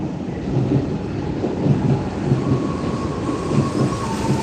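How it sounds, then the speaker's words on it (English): A train in Moscow at night rumbles steadily past, a heavy, continuous roar with rhythmic clacking pulses and a faint high whine, loud and close throughout. "there's the first train"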